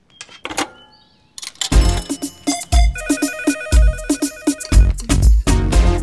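A mobile phone rings with a missed call in a Telugu film scene. After a brief near-silent start, a loud electronic melodic ringtone plays with punchy rhythmic beats.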